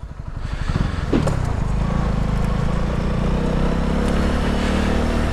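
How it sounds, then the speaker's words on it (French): Motorcycles pass nearby on a sunny day, their engines rising from a faint approach into a loud, steady drone that holds without letting up. No one speaks. "c'est le seul jour de beau dans la semaine, donc tout le monde sort les motos"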